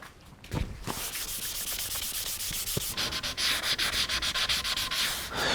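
Steady abrasive rubbing of Super Acelix abrasive on a flexible pad, sanding the finish on a neck-through guitar neck, close and continuous with rhythmic strokes growing brisker toward the end.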